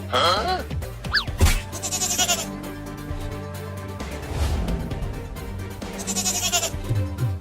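Cartoon goat bleating in a Hindi animated comedy, several wavering cries in bursts over background music and effects, fairly loud and close.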